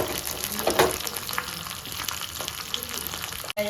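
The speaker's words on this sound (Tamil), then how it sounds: "இது போட்டு எண்ணெயில் நல்லா வறுவிட்டதுக்கப்புறம்" Dried red chillies, curry leaves and small onions frying in oil for a spinach and lentil kadaiyal, a dense close crackling sizzle with brief stirring scrapes and a sharp knock near the end.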